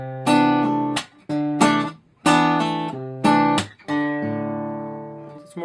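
Measure 84 of a song played slowly on guitar, five strummed chords with hammer-on and pull-off fingerings, each ringing briefly before the next, the last left to sustain and fade.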